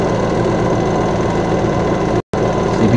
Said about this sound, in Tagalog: okay yung dryer natin, spin dryer natin